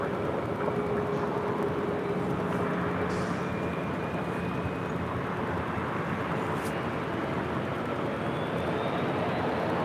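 A Southwest Airlines Boeing 737 MAX 8 taking off at LAX, a steady broadband engine roar with a faint rising whine, heard from a distance and continuous throughout.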